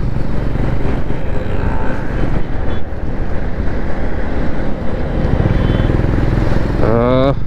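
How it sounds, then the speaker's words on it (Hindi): A Honda Highness CB350 DLX motorcycle engine drones steadily on a highway, mixed with heavy wind rush and road noise, loud and continuous throughout, with a brief higher tone near the end. "तो मैं सिर्फ बाइक का इंजन का फील लेता हूँ फिलहाल"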